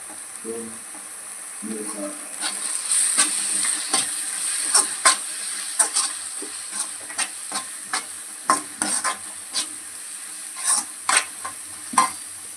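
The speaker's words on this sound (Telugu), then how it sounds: "చూడండి మసాలా వేస్తున్నాను ఇప్పుడు" Masala being stirred into a pot of country chicken curry, with a steady sizzling hiss and repeated sharp scraping strokes of a spoon against the pan, plus low murmurs early on.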